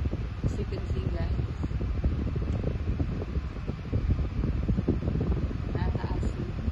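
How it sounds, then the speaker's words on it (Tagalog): An electric fan runs steadily nearby, a constant breathy whoosh with rustling wind buffeting on the microphone, while a sound level meter reads it and someone talks over the noise. "itatry natin siya sa fan"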